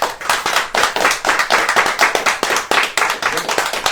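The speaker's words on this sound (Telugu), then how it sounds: "సో దానికి క్లాప్స్ లేవా?" Lively clapping from a small group at a birthday celebration, a dense run of sharp hand claps for about four seconds, close and fairly loud with no talking over it.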